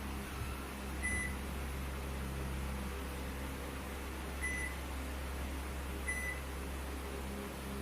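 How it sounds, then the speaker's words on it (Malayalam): A microwave oven running while it heats a milk chocolate mixture: a constant low hum and fan drone, with three short, faint beeps spaced apart. "മിക്സ് ചെയ്ത കൂട്ടിനെ 15 സെക്കൻഡ് മൈക്രോവേവ് ചെയ്തെടുക്കുക."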